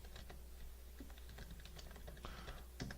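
Close, steady typing on a computer keyboard, a quick irregular patter of soft key clicks with no one talking.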